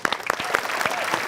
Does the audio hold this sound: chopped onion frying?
no